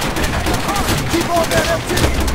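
Machine gun fire in the video game Call of Duty: World at War, with a steady, loud stream of rapid gunshots and overlapping shots, with faint shouting voices underneath.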